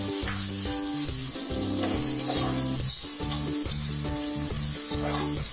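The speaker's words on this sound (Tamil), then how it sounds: "மல்லி இலைய அதோட ஆட் பண்ணிட்டு லைட்டா வதக்குற மாதிரி கிண்டிகிட்டே இருக்கணும்" Coriander leaves and onion lightly sautéed and stirred in a pan for nonbu kanji make a soft, steady hiss under loud rhythmic background music.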